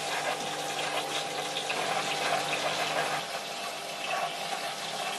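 Water rushes and splashes steadily through a marine aquarium sump driven by a 6800 pond pump alongside an RDC 1800 protein skimmer, a constant close gushing wash with a faint hum beneath and no voices.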